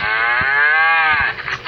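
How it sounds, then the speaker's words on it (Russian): A cow gives a long, loud, close moo in a farming video game, a single sustained call that fades out, with no talk over it. "Ну и, естественно, порадую и своих коровочек."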